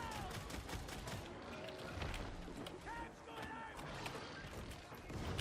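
Dual pistols fire in Warhammer 40k: Darktide, rapid sharp shots over dense, cluttered game combat noise, fairly faint throughout.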